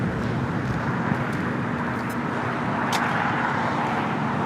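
A broad, steady roar from an American Airlines Boeing 777-300ER jet at LAX holds constant throughout, loud and unbroken with a faint hum beneath it.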